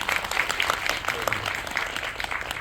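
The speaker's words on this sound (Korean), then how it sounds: "축하의 박수 한번 드리면서요" Cinema audience at a film talk in Megabox COEX hall 8 gives a round of celebratory applause, a steady wash of many hands clapping, fairly soft and distant, with no voice above it.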